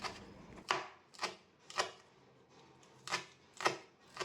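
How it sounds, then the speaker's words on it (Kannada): Spring onion chopped with a knife on a board: six or so distinct close chops in an uneven rhythm, with quiet gaps between them. "ಸ್ವಲ್ಪ ಸ್ಪ್ರಿಂಗ್ ಆನಿಯನ್ ಇದೆ ಅದನ್ನು ಸ್ವಲ್ಪ ಹೆಚ್ಚಿಟ್ಕೊಳ್ತೀನಿ"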